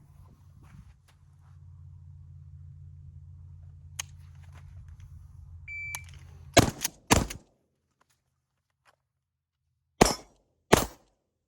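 A low steady hum runs for several seconds, then sharp close gunshots ring out from a Mossberg Shockwave and a Sig 365X pistol: two quick shots, silence, then two more shots.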